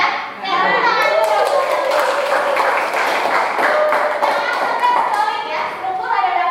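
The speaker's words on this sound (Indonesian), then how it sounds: "Oke, tepuk tangan dulu." A class of students in a school classroom claps their hands in a steady rhythm while young voices chant and talk loudly over the clapping the whole time.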